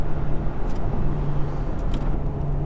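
A 2017 Mercedes GLE43 AMG rumbles steadily while driving, a loud, low and even engine drone with road noise heard from inside the car, without any talk.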